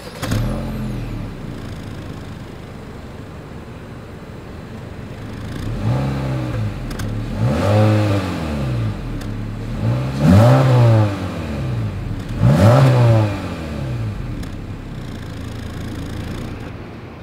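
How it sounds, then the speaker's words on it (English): A 2022 Honda Civic Sport exhaust revs from idle in four rising, falling blips, each climbing higher and louder than the last before settling back, heard close with no talking. "As always, here is that exhaust clip."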